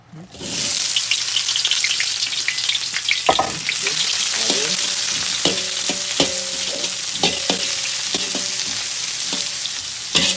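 Onions sizzle steadily in hot oil in a wok for Indonesian mie goreng, with crackling fry noise and intermittent scraping clicks from stirring, close and continuous.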